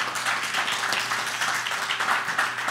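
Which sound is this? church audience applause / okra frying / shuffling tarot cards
church audience applause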